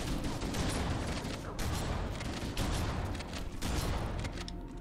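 Repeated shotgun blasts in the Halo shooter game, loud and booming, fired in quick succession amid combat noise over a few seconds.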